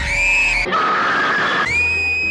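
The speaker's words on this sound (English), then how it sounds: "That's the best scream I've ever heard." A loud, sustained high-pitched scream, shifting pitch partway through, with a shrill piercing quality and no speech.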